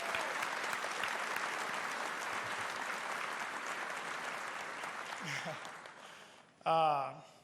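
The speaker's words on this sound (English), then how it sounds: "round of applause" A crowd applauds steadily for several seconds at a NASCAR championship speech in Phoenix, the clapping fading slightly before a voice speaks at the end.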